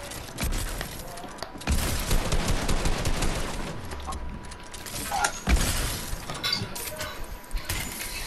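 A charged shotgun fires in Fortnite Creative box fights: loud, heavy blasts with crashing building-impact noise between them and brief quieter gaps.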